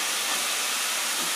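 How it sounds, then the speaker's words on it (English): Loud, constant sizzling hiss from a hot frying pan cooking tofu ramen, dense and unbroken throughout, with no talking. "If you can hear me over the sizzling, awesome."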